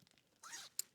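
A tent bag zipped shut while packing up a camp in wet weather: one quick, rasping zip pull lasting about a quarter second, ending in a sharp click, with faint rustling before it.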